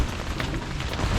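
Steady heavy rain pours down on a tent in a dense, continuous hiss, loud and close, with no voices.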